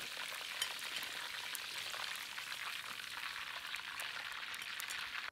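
Pork pieces for sweet and sour pork deep fry in hot oil, giving a steady, bright, crackling bubble with small pops, continuous and close, with no voices.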